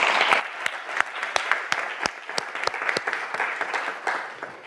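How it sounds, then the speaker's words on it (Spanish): A conference audience claps for the speakers at the close of a session, a moderate, fairly close patter of individual hand claps with distinct sharp slaps rising and thinning over a few seconds. "pediría un aplauso para ellos"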